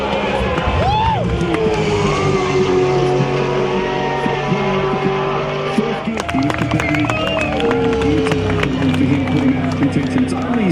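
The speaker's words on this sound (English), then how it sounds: "what a crowd we've got here Saturday afternoon at Bathurst." Big crowd at the Bathurst 1000 race track on a Saturday afternoon, a dense roar of chatter and cheering mixed with passing race cars and tire noise, loud and continuous with a voice talking close up.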